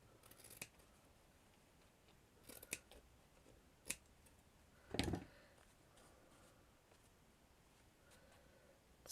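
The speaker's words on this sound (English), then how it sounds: "With sharp scissors." Sharp scissors snip excess material while a miniature girly bedroom diorama is assembled, giving a few quiet, isolated clicks and one firmer, louder cut near the middle, each separated by near-silence.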